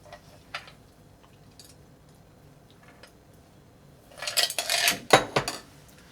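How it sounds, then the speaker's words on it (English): A strawberry bourbon cocktail double strained into a flanged coupe, heard as a burst of metal strainer and glass clinks and rattles near the end after a quiet stretch with a few faint taps. "Let's double strain in a flanged coupe."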